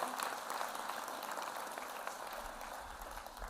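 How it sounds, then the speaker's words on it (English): Steady applause from a college commencement audience, continuous clapping at moderate volume throughout with no pauses or voices. "How about a round of applause for Dr. Bowen, managing all those names."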